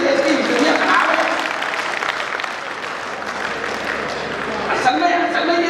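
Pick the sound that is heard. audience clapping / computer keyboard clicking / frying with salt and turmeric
audience clapping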